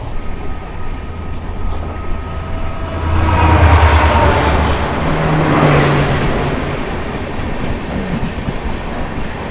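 Train 22449, the Guwahati–New Delhi Purbottar Sampark Kranti Express, rumbles past near Kamakhya Junction, its loud roar swelling midway with a horn tone and rail hiss before easing back to a steady clatter.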